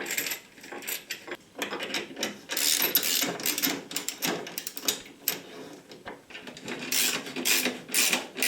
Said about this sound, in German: Jetzt drehen wir mal alle Schrauben soweit handfest an.